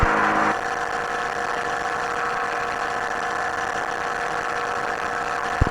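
A Chinook ultralight aircraft engine idles steadily while warming up at a morning gathering of small planes, a constant close hum with a brief louder start and a small bump near the end, no voices.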